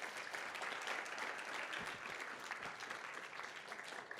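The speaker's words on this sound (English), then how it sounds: "Another round of applause for Virginia," Conference audience at a leadership keynote applauds steadily, a dense, even wash of clapping that holds at full strength throughout without voices.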